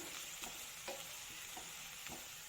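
Mushrooms fry in a pan for a mushroom roast, a faint, even sizzle with a few soft stirring scrapes, and no voices.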